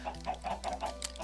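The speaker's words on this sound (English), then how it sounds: "that's where the chickens can roost" Chickens in a Minecraft-style survival game give a quick run of soft, rhythmic clucks, five or six short calls in about a second, close by and without speech.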